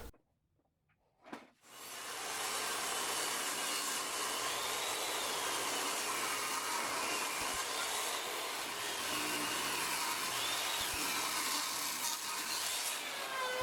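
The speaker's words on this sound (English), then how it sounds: "This is the longest planer session of this project by far." A thickness planer feeds pallet hardwood boards for a coffee table tabletop, a loud steady roar that starts after a brief knock and runs continuously near the mic with no talk.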